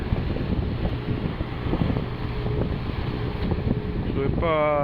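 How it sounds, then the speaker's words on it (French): Sailboat running wing-on-wing with its engine assisting, heard as a steady low motor drone and rushing water and wind noise, with a rising tonal whine near the end. "j'ai mis les voiles en ciseaux, un peu de moteur en soutien"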